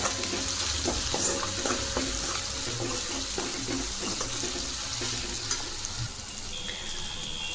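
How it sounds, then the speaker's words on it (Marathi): Tomato softened in a pan with red chili powder, turmeric and sambar masala is stirred while it fries, giving a steady close sizzle with soft scraping strokes throughout and no talking. "हे व्यवस्थित मिक्स करून घेऊ आपण।"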